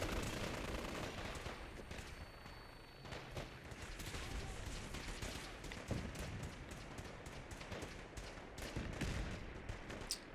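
Rapid gunfire and explosive bursts in the video game Fallout 4, during a battle at Bunker Hill, dense and continuous with machine-gun volleys and scattered louder shots throughout.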